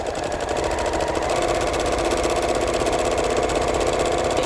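A home sewing machine stitches embroidery on a vest, running in a steady, continuous mechanical whir with a fast repetitive needle rhythm, close and fairly loud with no talking.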